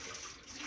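A pot of water is dumped out into a kitchen sink, a brief, close rush of splashing and gurgling water that lasts under a second.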